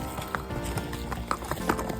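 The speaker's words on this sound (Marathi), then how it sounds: "बघा घोडे." Horses walk on the trails of Matheran, hill station, hooves clip-clopping in an uneven rhythm at moderate distance, under a busy outdoor background with faint voices.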